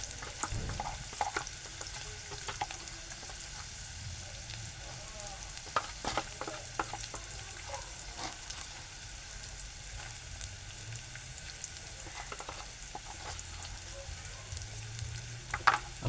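Chopped onions with turmeric sizzle steadily in a pan, with soft scrapes and clicks of stirring scattered throughout, close and fairly quiet.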